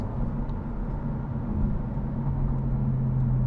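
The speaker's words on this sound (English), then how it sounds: "we're gonna do some rev matching downshifts here" A car engine drones steadily up close during rev-matched downshifts in a performance-minded vehicle, a dense low rumble that holds nearly constant with a faint tonal hum and no voices.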